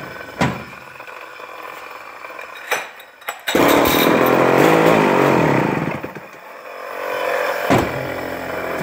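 A vintage Homelite C-52 chainsaw on its first start gives a few sharp pulls and sputters before the engine catches, roars loudly for a couple of seconds, drops off, then idles rough and close.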